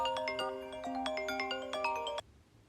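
A phone ringtone plays a bright, repeating electronic melody for about two seconds as a call is placed, then cuts off abruptly into near silence.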